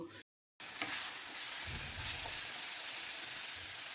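Capsicum and spices sautéing in a pan, a steady close sizzle with a few soft stirring scrapes, after a brief moment of silence at the start.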